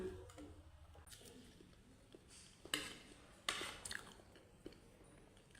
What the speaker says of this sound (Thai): ทานกล้วยน้ำว้ากันยินนะคะ